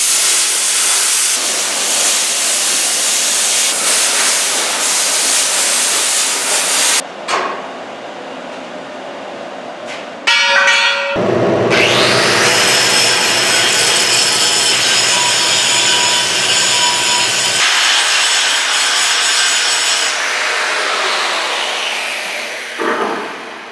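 A plasma cutter slices through the flange of a beverage truck frame with a loud, harsh hiss. It cuts out briefly twice, then roars on steadily before tapering off.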